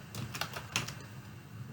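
Keys tapped on a computer keyboard while entering a search, a few faint, quick clicks in a quiet room.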